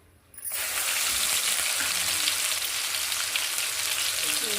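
Ginger paste hits hot oil in a large pot of chicken pickle, about a quarter kilo into a 2–3 kg batch, bursting into a loud, steady, close sizzle after a brief quiet moment and holding without talk.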